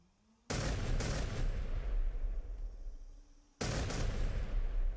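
A P-51D's machine guns fire in Storm of War in two loud sustained bursts, the first running about three seconds and the second starting after a brief pause, harsh and continuous up close.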